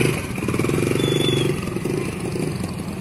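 A Honda EX5 motorcycle engine putters nearby with a steady, rattling idle, rising briefly then settling to a lower rumble.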